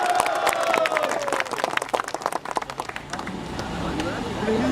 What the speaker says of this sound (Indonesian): Berikan aplaus buat Wakil Bupati.